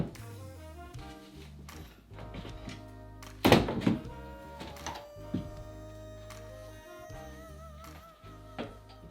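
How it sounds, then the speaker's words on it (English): A crowbar pries off wooden door trim, producing scattered creaks and cracks, one loud splintering snap near the middle and lighter knocks and scrapes after, all close. "And then we're going to be taking a crowbar and carefully removing it."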